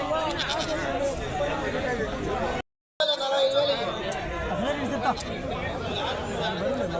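Goats bleat repeatedly amid a busy crowd at a weekly livestock market in Badvel, Kadapa district, with people chattering all around and a brief dropout of silence midway.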